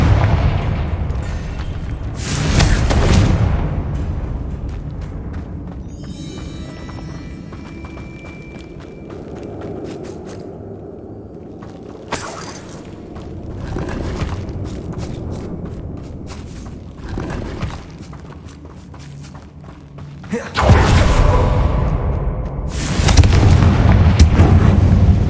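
Confringo explosion spells cast in the video game Hogwarts Legacy, a fight with spiders. Several heavy booming blasts ring out at intervals, with quieter rumbling and magical effects in between.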